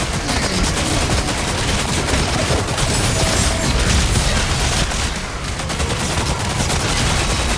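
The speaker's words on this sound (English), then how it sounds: "what if Super Shotgun never stopped shooting" Super Shotgun from DOOM: The Dark Ages firing without pause, a dense, loud wall of rapid blasts with booming low end, steady and continuous throughout, no voices.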